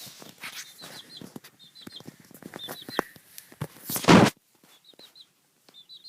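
Young pet chicks chirp in quick repeated triplets of high peeps, close by, amid scattered rustling, clicking and a burst of wing flapping or scuffling.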